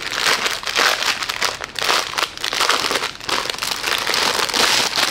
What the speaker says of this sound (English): Let me see if I can get this thing open. Sorry, crinkling.